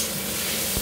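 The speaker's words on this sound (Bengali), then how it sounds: "এখন তো ভেজে নিচ্ছি" Onion and tomato fry in a pan with a steady, dense sizzle that fills the brief moment, close and loud, with no voices.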